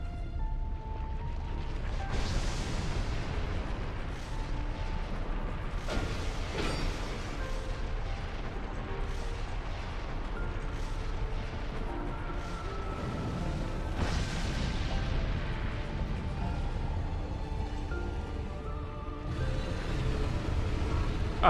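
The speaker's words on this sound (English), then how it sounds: "Ah, tiny fireballs." Fireballs cast in the video game Dark Souls II: Scholar of the First Sin, a dense, continuous roar of booming blasts and rumbling impacts with sharp bursts layered over game music throughout.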